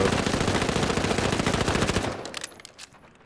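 A sustained burst of rapid automatic gunfire in the shooter game The Finals, loud and even for about two seconds before it stops and a few fainter shots and echoes trail off.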